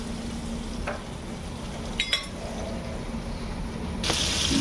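Vinegar and soy sauce hit hot oil with garlic-ginger paste for veg Chinese rice, giving a steady close sizzle with a few soft clinks and a brighter hiss near the end. No one speaks.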